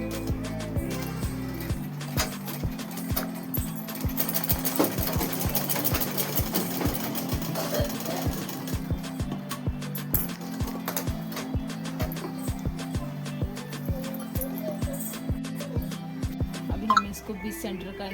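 A sewing machine stitches a coat suit in long runs of rapid, even mechanical clatter, loud and close. It pauses briefly near the start and again at the end, while someone talks over it.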